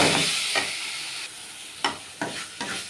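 White sesame seeds, mint and coriander frying in a pan: a steady close sizzle and hiss, broken by a few sharp stirring scrapes near the end, with no voices.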